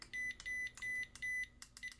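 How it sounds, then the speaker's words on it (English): An IR camera multimeter on its continuity test gives four short, even beeps, thin and close, each followed by a brief pause, with faint clicks in between. "you'll get a quick beep if there's a pin to ground"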